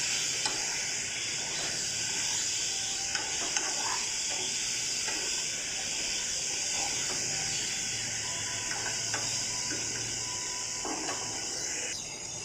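Steady sizzle of amra chutney with turmeric cooking in a pan, with intermittent stirring scrapes and clinks over a continuous hiss, close and even in level throughout.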